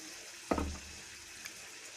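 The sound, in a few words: pouring tamarind water into garlic gravy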